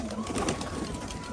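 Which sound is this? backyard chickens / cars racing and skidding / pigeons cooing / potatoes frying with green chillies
pigeons cooing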